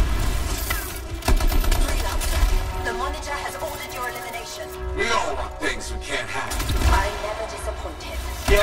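Rapid gunfire from NPC enemies shooting back in the Anthem video game, dense overlapping bursts and booms loud throughout with a steady battle din, with voices talking underneath.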